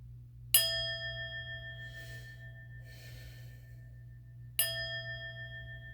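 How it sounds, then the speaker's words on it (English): A singing bowl is tapped twice, four seconds apart, each strike a bright ringing tone with a long fading sustain, heard close and alone over a low steady hum, with soft breathing between the strikes. "I'm just going to tap the bowl a few times"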